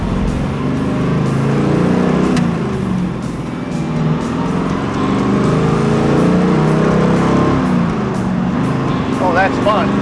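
A classic hot rod car engine, a Studebaker, rumbles steadily at loud volume while driving, with rising revs and wind rush, and people talk over it throughout.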